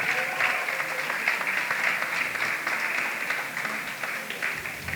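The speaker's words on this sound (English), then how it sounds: "Please give them another round of applause." Sustained applause from an audience at a graduation ceremony, dense steady clapping that holds for several seconds without pause.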